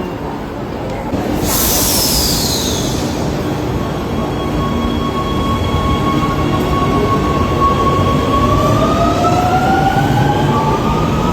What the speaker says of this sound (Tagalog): So sa train na naman tayo sasakay.